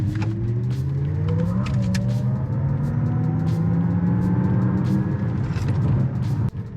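A steady synthetic hum from the active sound design of a 2023 Lexus RZ450e in sport mode rises gradually in pitch as it accelerates, layered over road and tire rumble, ending with a brief drop.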